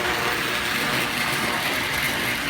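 A fussy, repainted model train locomotive runs on a home layout, giving a steady, close mechanical whir and hum that holds constant throughout, with no talking.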